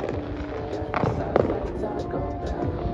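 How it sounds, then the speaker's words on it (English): Fourth of July fireworks being shot off at a distance, with a couple of muffled booms and pops over a busy urban background with crowd chatter near a BART station. "They're shooting fireworks still."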